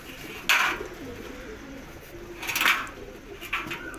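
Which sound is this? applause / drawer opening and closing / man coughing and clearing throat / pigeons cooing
pigeons cooing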